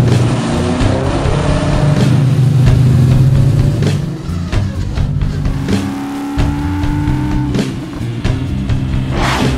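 A 1969 Camaro ZR9 with a supercharged LS7 427 V8 roaring on a dyno during a power pull, engine pitch climbing steadily, then dropping and surging again, loud and close.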